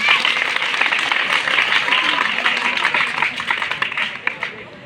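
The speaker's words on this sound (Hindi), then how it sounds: "एक जोरदार ताली आपके लिए बजाइए।" An audience at an NCC fire safety training session gives a burst of clapping that holds steady for several seconds, then thins into scattered claps toward the end.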